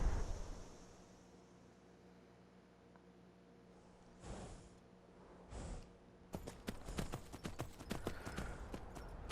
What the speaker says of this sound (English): let's go ahead and get on my horse and head back home.